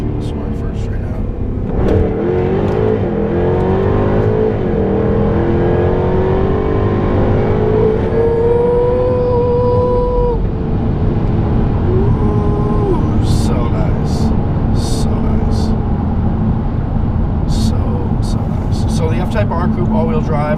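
A 2016 Jaguar F-Type R AWD coupe launching hard from a standstill, its engine roaring loud and steady as it climbs through the revs with rising pitch sweeps, joined later by a few sharp clicks, with a voice talking over it.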